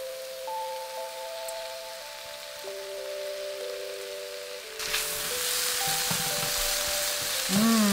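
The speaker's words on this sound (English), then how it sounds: "Sizzling. It's proper bacon." Bacon lardons sizzle in a frying pan, a steady crackling hiss that jumps louder halfway through, with steady electronic tones and music humming underneath and no talking.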